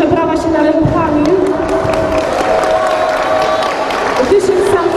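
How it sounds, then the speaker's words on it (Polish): A crowd applauds and cheers at a charity marathon event, with steady clapping filling the room and voices talking over it throughout. "myślę, że brawa się należą Kamil."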